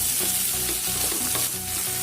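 Rajma and paneer masala frying in a pan, a steady close sizzle with stirring scrapes throughout, no voices.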